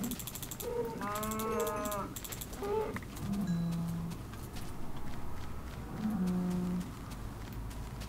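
Cows moo in Minecraft: three separate low, drawn-out moos spaced a few seconds apart, plus brief higher animal calls early on and footstep-like clatter over a steady background.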